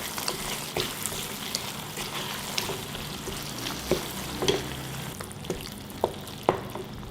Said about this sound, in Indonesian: Kita tumis dulu sampai harum sambil diaduk-aduk